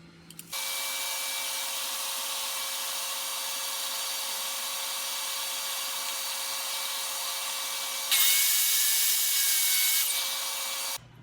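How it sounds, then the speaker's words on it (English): A power saw gang-cuts clamped wooden drawer side boards, a loud continuous whine that shifts and intensifies briefly near the end before stopping abruptly. "what I'm doing is clamping them together, so this way I can gang saw them and get them exactly the same size"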